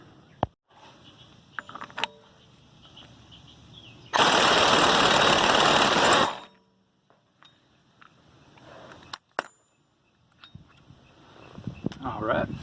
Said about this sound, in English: I'm going to take the nut off as well.